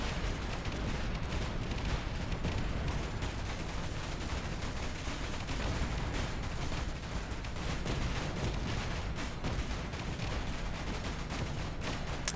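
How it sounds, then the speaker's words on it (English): Missile explosions in Space Engineers, a dense continuous barrage of booms and crackling blasts rumbling at steady loudness for several seconds. "New volumetric explosions are pretty as well."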